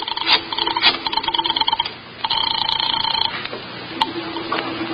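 In an old-time radio crime drama, a telephone bell rings in loud, close bursts with short pauses between them. No voices are heard.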